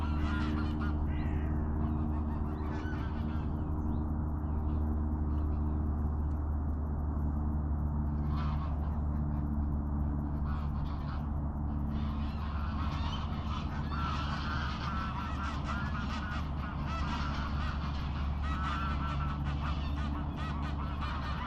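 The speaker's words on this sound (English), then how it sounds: "Geese on the far bank are getting a bit noisy." Geese honk continuously on the far bank of the River Thames, distant and layered over a steady low rumble of outdoor ambience, with no one speaking nearby.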